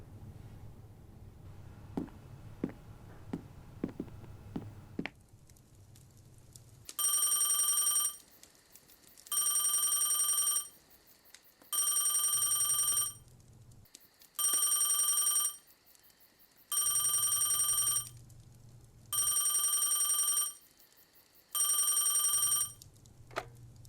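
After a few soft clicks, a telephone rings repeatedly, seven evenly spaced loud bursts with short pauses between them.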